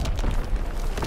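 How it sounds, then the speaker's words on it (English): A grenade explodes in Call of Duty WWII multiplayer, one loud, heavy boom filling the whole short moment with a dense low rumble. "I die by a random nade"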